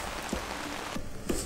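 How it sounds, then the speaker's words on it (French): Steady rain falls outdoors on a road bike trip through the Pyrenees valley, a dense close patter on surfaces with a few louder drops landing now and then, and no voices. "donc au lieu d'avoir de la neige, on a de la pluie."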